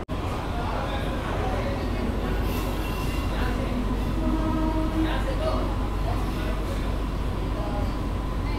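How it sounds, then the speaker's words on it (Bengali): Rajdhani Express, a 12-coach ICF rake, rolls into Sealdah station with a continuous loud rumble and rattle of wheels on rails, voices and station chatter blending into the noise. "শিয়ালদাতে এন্টার করছে রাজধানী এক্সপ্রেস।"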